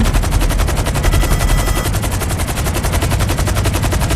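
Rapid automatic gunfire in the video game GTA 5, a dense continuous burst of shots at steady high volume, alone without talk.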